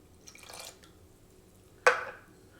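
Worcestershire sauce going into a bowl with lemon juice for a lamb riblet sauce: a brief faint trickle, then a sharp close liquid splash.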